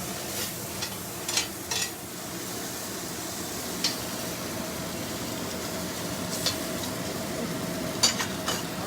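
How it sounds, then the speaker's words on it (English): Onions being stirred and fried in a pan give a steady sizzle with scattered scraping clicks from the utensil, close and continuous with no talking. "I'm just going to mix everything around, get all those flavors combined, try to get a little more color on those onions."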